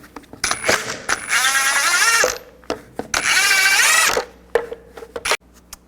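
Two bursts of an electric impact tool with a 22mm socket spin lug nuts loose on a 1999-07 Chevy Silverado 2500 rear wheel, each a loud whirring rattle of about a second, with clicks and metallic clinks between them.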